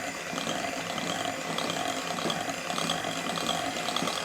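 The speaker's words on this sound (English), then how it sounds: "we're going to keep whisking this until obviously it thickens up to the consistency that you want" An electric mixer whisks a no-bake raspberry cheesecake mixture in a bowl, a continuous whirring motor with a rapid rattling beater texture, moderately close and without speech.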